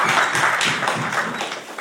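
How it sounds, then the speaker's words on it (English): Event audience applauding as someone comes up at a student hackathon held at IIIT-Delhi, a dense, steady wash of many hands clapping together, fairly loud and continuous throughout. "I want you to give a round of applause as he comes up."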